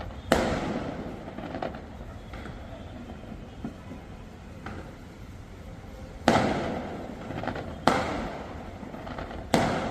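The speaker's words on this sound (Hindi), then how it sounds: "अब ये पटाखे तो बजते रहेंगे, ये आतिशबाजी तो यूं ही चलती रहेगी।" Firecrackers and fireworks going off outdoors at a celebration, with several sharp loud bangs standing out at intervals over a steady crackling, rumbling background of distant bursts.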